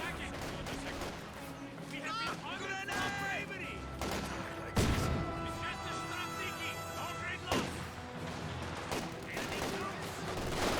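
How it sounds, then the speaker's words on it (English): MG-42 machine gun fire in the game Company of Heroes 2 amid a wider battle: rattling bursts and heavy thumps of artillery over a continuous war din, with a commentator talking throughout. "MG-42 providing some good cover fire"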